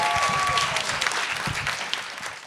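A morning audience claps in a steady burst of applause, fairly loud and close, with a few scattered shouts, tapering off toward the end.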